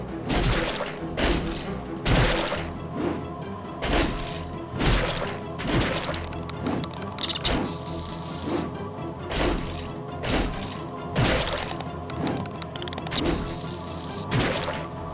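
Firestorm cannon in Turok 2 Remaster fired in rapid repeated bursts, each shot a sharp crashing blast with a booming tail, about a dozen loud shots in a steady rhythm.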